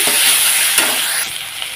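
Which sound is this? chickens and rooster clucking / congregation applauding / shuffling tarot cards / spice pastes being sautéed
spice pastes being sautéed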